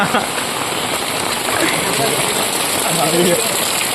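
Heavy rain pours onto flooded streets in Tirunelveli district, making a dense, loud, continuous hiss with faint, muffled voices underneath.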